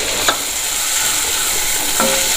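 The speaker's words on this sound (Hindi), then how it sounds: "तब हम इसमें डाल देंगे 2 बारीक कटी हुई प्याज।" Finely chopped onions sizzling with garlic in a pan for sarson ka saag, a steady loud frying hiss with a couple of stirring scrapes, no voices.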